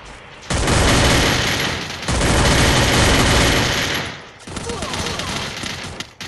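Rapid automatic gunfire from the shooter game Champions Legion bursts out loud and sustained in two long volleys, then drops to scattered shots with a faint voice underneath.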